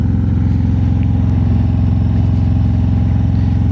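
Steady motorcycle engine drone while riding in winter, a constant mid-pitched hum with fine rhythmic pulsing, close and loud throughout with no talk.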